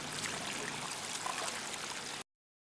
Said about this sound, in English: we're going to run the well a little bit and flush any debris, just get it flowing